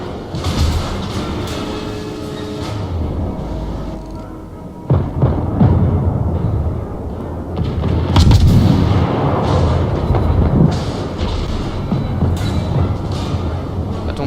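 Heavy naval gun salvos from a warship battery in World of Warships, British cruiser gameplay: loud booming blasts around five and eight seconds over a continuous rumbling background.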